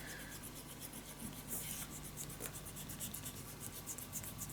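Rapid back-and-forth rubbing of an eraser over paper on a scrapbooking pop-up album, quiet and close with a steady scratchy rhythm.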